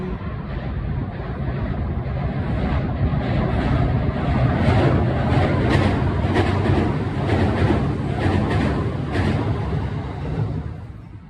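A train rumbles past close by, loud and steady, with a rhythmic rattling of wheels over the rails building and fading.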